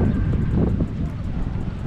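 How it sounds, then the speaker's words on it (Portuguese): Gusty coastal wind buffets the microphone during a seaside bike ride, with a low, steady rumble that swells and dips unevenly throughout. "por causa que tá ventando"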